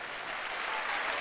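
Audience applause at the final of a Georgian TV singing contest, a dense steady clapping from a crowd, moderately loud with no talk over it.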